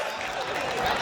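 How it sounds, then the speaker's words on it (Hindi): A crowd at a poetry recital gives brief, dense applause to welcome a poet on stage, a continuous wash of clapping filling the whole moment. "अगर आपको भी लगते हैं तो फिर एक बार जोरदार तालियों से इनका स्वागत होना चाहिए"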